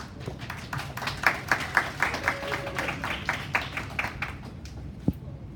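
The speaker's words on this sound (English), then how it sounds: "Let's give them a big round of applause." An audience at a business seminar in Hong Kong claps for the organizers, a steady patter of many hands with some sharper individual claps standing out, moderately loud and fairly close.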